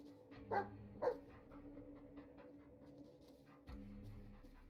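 Dog barks in the Blair Witch video game: two short, sharp barks close together near the start, followed by quieter dog sounds over a low ambient game background, with no talking.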